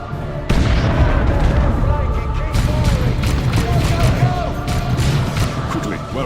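Gunfire and explosions in the game Dawn of War 2 Chaos Rising, a dense, loud barrage of overlapping shots and booms that starts abruptly and continues steadily, with voices and battle noise mixed in.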